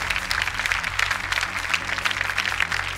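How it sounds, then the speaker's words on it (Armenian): Audience applause at a gala concert for a song's author seated in the orchestra, a dense steady clapping from a large crowd filling the whole moment. "ձեր ծափահարությունները"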